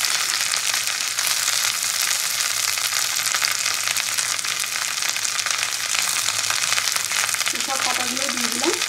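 Chopped kharkol leaves fry in a pan with a dense, steady hiss of sizzling oil, loud and close throughout, with a brief voice-like murmur near the end.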